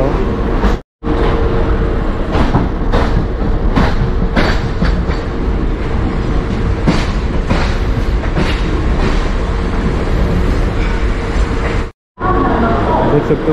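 A Mumbai local train runs at night near Vitthalwadi, its loud, steady rumble and rhythmic clickety-clack of wheels filling the clip, broken by two very brief dropouts.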